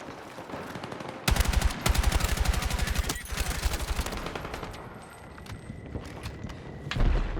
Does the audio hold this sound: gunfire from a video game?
yes